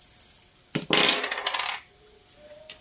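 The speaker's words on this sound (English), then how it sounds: "So let's roll the dice, see what you get as well." Dice dropped and rolled on a hard surface: a single close clatter of tumbling rattles that skitter for about a second and then settle into quiet.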